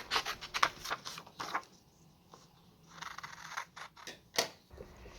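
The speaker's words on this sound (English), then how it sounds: "just get some scissors and cut out each section so you have 6 pieces of pie" Scissors snipping through paper to cut out pie-shaped sections, a quiet series of short crisp cuts and rustles in irregular bursts, close and faint with no talking.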